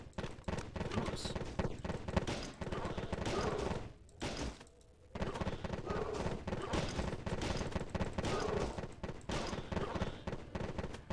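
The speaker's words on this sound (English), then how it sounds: "Quickly, let's put down a couple of turrets." Automatic turrets fire guns in an exploration video game, a dense, continuous crackle of rapid gunfire that stays loud and unbroken except for one short lull near the middle.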